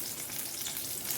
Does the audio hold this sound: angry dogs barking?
no